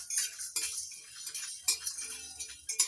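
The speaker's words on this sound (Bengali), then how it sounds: "এবার লো ফ্লেমে মশলাটা ভেজে নেব।" Cumin, dried red chillies and black pepper dry-roasting in a pan on low flame, with a spoon stirring and scraping and light metallic clinks, quiet and close with no voices.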